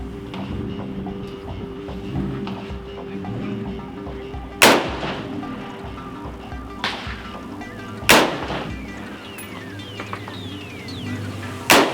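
KelTec RDB-C rifle fired from a bench at an outdoor shooting range: three sharp, loud shots spaced a few seconds apart, with a fourth at the end, over steady background noise.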